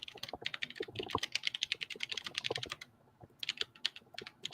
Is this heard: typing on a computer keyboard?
yes